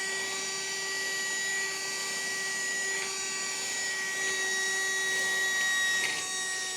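A small Henry cordless desk vacuum whirs steadily with a high-pitched motor whine, a few faint rattles of dry breakfast cereal being sucked up.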